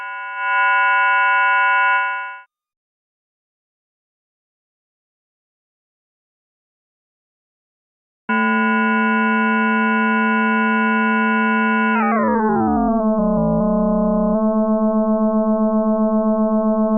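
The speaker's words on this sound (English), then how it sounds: "The original sound of the 3 harmonics." Synthesized tone of three harmonics, unprocessed before ring modulation: a clean, steady electronic chord plays briefly, falls silent, then returns as a sustained tone that bends downward in pitch and settles into a lower, slightly pulsing drone.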